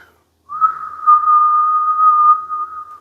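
A single steady lip whistle, held for about two seconds on one clear pitch, loud and close with no talk, blown as saxophone embouchure practice to check where the mouth corners tense.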